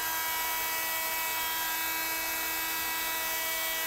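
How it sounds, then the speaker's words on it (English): A heat gun warms epoxy on a carbon fiber cloth laminate, giving a steady, even electric blower whine with a high-pitched tonal hum. It runs continuously and alone at moderate level throughout. "I prefer to use heat guns versus torches just because of the safety"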